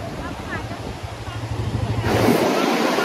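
Sea waves wash steadily onto a beach at high tide at Alibaug, a broad continuous rush that grows louder toward the end, with wind buffeting the microphone.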